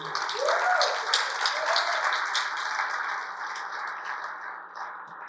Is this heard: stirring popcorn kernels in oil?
no